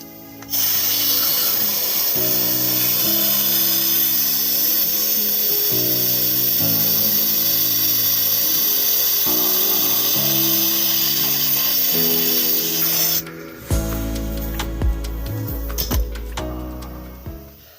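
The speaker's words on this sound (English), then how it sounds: "Let's blow this line out. And all I'm using is just compressed air." Compressed air blasts through an air conditioner line during home maintenance, a loud continuous rushing hiss with shifting rattling tones that cuts off near the end, followed by some clattering handling sounds.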